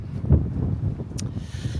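Outdoor wind buffeting during a sunny dog walk, a steady low rumble of gusts against the microphone with a brief faint hiss partway through.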